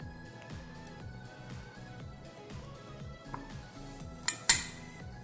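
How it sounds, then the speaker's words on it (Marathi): A spoon scrapes and clinks against boiled drumstick pods while pulp is scooped out. Soft scraping runs under steady background music, and two sharper metallic clinks come near the end. "आता आपल्याला शेवग्याच्या शेंगामधला गर जो आहे तो अशा प्रकारे चमच्याने काढून घ्यायचा।"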